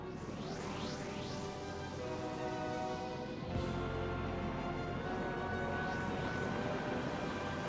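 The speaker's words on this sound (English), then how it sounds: "Thunderbird 2 has ignition." Thunderbird 2, an animated rescue craft, ignites with a loud, steady roaring engine drone layered with rising whines, building into a continuous thrust rumble that jumps slightly louder midway as it lifts off.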